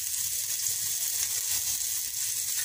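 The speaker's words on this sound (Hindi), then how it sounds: "ये हमने ऑयल डाला और इसमें ये हमने डाल दिया प्याज" Chopped onion sizzles in hot oil in a pan for cheese keema, a steady, bright frying hiss that holds evenly close-up throughout, with no voices.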